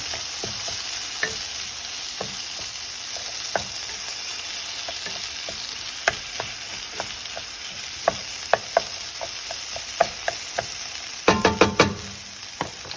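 Lime zest, tomatoes and jalapeno fry and sizzle in a hot pan for a breakfast burrito, with a steady hiss broken by scattered clicks of stirring and a brief burst of tossing near the end, and no talk.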